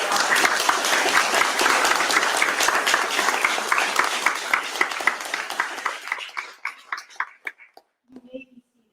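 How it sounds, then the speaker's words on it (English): Audience applause at the New York City Book Awards ceremony: a dense, sustained round of clapping that thins out into scattered final claps before fading to silence. "Let's give them a round of applause."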